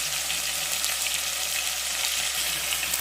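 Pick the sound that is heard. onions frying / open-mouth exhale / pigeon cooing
onions frying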